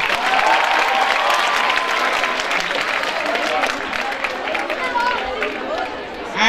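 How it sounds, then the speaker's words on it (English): At a school senior singing-contest event, the audience applauds the organisers with sustained, fairly loud clapping mixed with crowd chatter and voices, easing slightly toward the end. "A round of applause for them."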